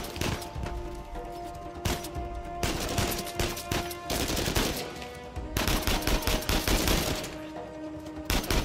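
Heavy continuous gunfire in the video game Uncharted: A Thief's End, rapid automatic bursts and impacts filling the whole stretch with only momentary pauses.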